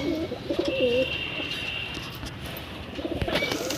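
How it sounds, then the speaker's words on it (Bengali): A Giribaz pigeon coos nearby in low rolling phrases, one at the start and another near the end, with a faint steady hum in the background. "জাস্ট পায়রাটা একটু দেখুন"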